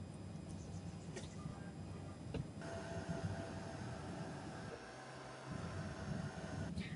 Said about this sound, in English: Then I'm going to set this with a heat gun, just so that the colours don't sort of bleed into each other.